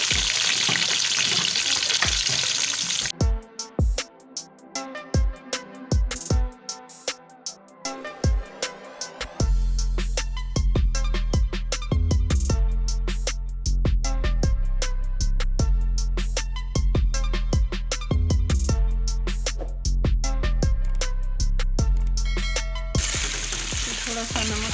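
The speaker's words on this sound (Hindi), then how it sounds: "अब हमारा गरम हो गया, अब मैं प्याज शामिल कर रही हूँ।" Chopped onions hit hot oil already seasoned with garam masala, turmeric and cut chillies, bursting into a loud, close, continuous sizzle with crackling spatters and stirring scrapes; a quieter hiss comes first, and no voice is heard.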